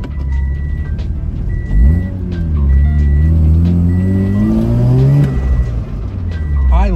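A Subaru BRZ with a swapped-in RX-7 13B rotary engine, heard from inside the car with the windows down. The engine revs up and down through several pulls with rising tone sweeps, loud and close, over road noise.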